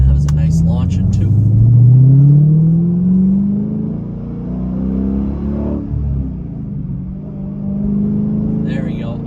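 A Dodge Challenger SRT8 V8 revs loudly up close, its deep rumble sweeping up and falling back in several surging revs.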